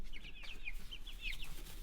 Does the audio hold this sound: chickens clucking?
yes